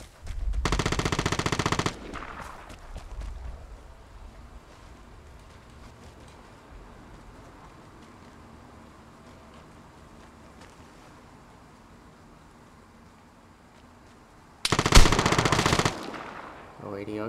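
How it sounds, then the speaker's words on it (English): Gunfire in the Xbox multiplayer shooter Vigor: two loud, sustained bursts of heavy gunshots, one at the very start and one near the end, separated by a long stretch of quieter in-game ambience. "It's a shotgun."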